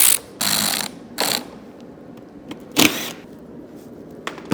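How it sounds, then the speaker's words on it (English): A pneumatic nut gun working on the fasteners of a Citroen Ami car, giving short buzzing rattles in a few separate bursts, close and fairly loud, with quiet gaps and small clicks between them. "I'm going to set to this with nut gun."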